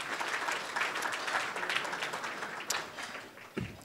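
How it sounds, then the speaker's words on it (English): Audience at an Illawarra business chamber forum claps for the invited guests, a sustained mass of hand claps that thins out toward the end with a few stray knocks. "could you just a round of applause for our guests?"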